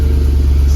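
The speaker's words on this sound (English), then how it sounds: "We're gonna clear all the codes and start her up and listen for that exhaust leak." A Mercedes E55 AMG V8 with an exhaust leak running just after starting up, a loud, close, low pulsing rumble held steady through a brief moment.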